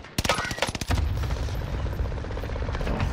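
Gunfire from players shooting each other in Call of Duty on Rebirth Island, a close burst of rapid shots that gives way to a dense, steady rumble of engine and battle noise.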